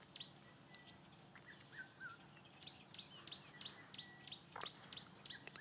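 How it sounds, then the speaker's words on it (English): Orange-breasted bushshrike and red-chested cuckoo calling at dawn in the African bush, with repeated short whistled notes and chirps, some far off, over a steady low background hum. "You can hear orange-breasted bushrike calling and a red-chested cuckoo in the distance."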